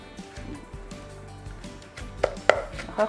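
Tomatoes pounded coarsely in a mortar with a pestle while making a Thai jaew dipping sauce: soft squishy thuds and mashing, a few sharper knocks near the end, close and fairly quiet.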